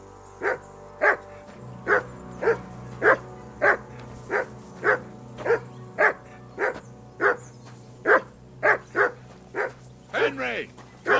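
A dog in Kingdom Come Deliverance 2 barks repeatedly in a regular rhythm, about sixteen loud, close barks, ending in a few faster yelps.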